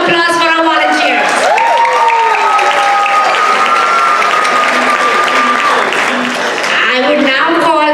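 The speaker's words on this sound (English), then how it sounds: "So big round of applause for our volunteers." An audience at a Diwali cultural fest in a high school hall applauds volunteers, with a steady, dense wash of clapping and some cheering that holds at full level throughout.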